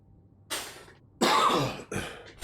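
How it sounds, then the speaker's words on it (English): One person coughs and clears their throat in a few short, close bursts separated by silence. "I always have to clear my throat a bit, cough a bit, and cough a bit."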